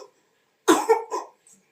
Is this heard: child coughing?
yes